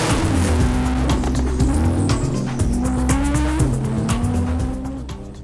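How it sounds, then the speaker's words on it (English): A 900 bhp Porsche Turbo driven hard at night, its engine loud and close with repeated rising revs and quick shift breaks, ending in a fading note as the car eases off. "Porsche turbo drive, guys."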